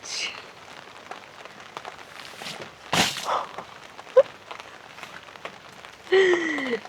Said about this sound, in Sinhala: මේ වහින්නේ කාලයකට පස්සේ කැම්ප් සයිට් එකට